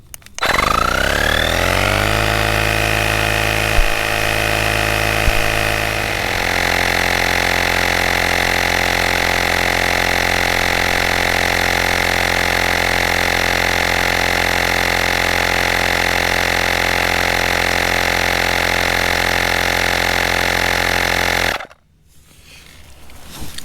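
An Auxito battery-powered pump drones loudly and steadily while inflating a motorcycle tyre, its motor buzzing at a constant pitch after a brief ramp-up, then stopping abruptly near the end.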